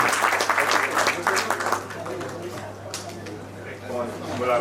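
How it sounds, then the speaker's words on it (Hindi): Audience at a community day event and book launch claps for an honoree, a burst of applause loudest at first and thinning out, heard under someone talking over a low steady hum. "बहुत जोरदार तालियां एक बार बजा दें उनके लिए।"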